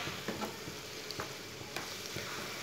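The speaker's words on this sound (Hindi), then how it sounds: "अब दो मिनट तक ऐसे ही पका लेंगे चम्मच चलाते हुए।" Chana dal and bitter gourd fry in a pan, with a soft continuous sizzle and faint spoon scrapes as the mix is stirred. No talking.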